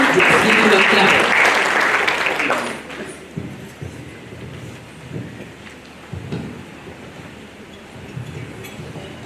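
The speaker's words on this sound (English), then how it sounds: "Makofi, meaning give him a clap." Audience applause at an African regional workshop on positive masculinity and gender-based violence, loud and dense for about two and a half seconds, then cutting off into a quieter room with scattered sounds and voices.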